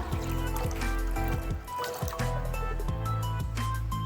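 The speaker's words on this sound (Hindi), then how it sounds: "इसमें मैं 3 से 4 ग्लास पानी डालूंगी," Water poured into a cooking pot to boil spaghetti for a street-style chowmein, a steady trickling and splashing pour heard close and continuous, with a busy background hum throughout.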